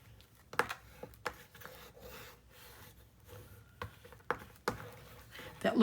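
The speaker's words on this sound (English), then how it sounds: "I want to burnish this down" A paper layer is burnished down onto a 9 x 8.5 mini album panel, giving soft, close rubbing and rasping strokes broken by a few sharp taps, quiet and alone.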